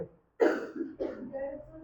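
A single sharp cough bursts out close by after a brief silence, followed by a rougher throaty sound trailing off.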